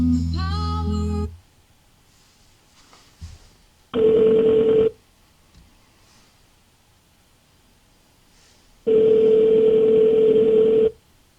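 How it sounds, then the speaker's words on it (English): Phone call ringing through a JVC car stereo connected by Bluetooth inside a car: a short tone, then two long, loud ringback tones about four seconds apart, with quiet between them. "I'm going to make my phone call."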